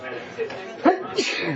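A single sharp sneeze bursts out amid casual conversation, with voices continuing around it.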